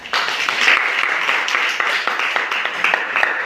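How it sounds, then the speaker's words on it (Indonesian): A classroom of students applauding a classmate, a dense burst of hand clapping that holds steady for a few seconds, loud and close. "Aplaus untuk Dani."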